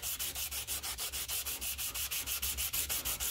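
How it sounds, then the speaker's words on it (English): 240 grit sandpaper rubs back and forth over an old hammer in a steady rhythm of about five strokes a second, each stroke a close, raspy hiss, with no voices. "240 grit. So I want to get all the scratches out"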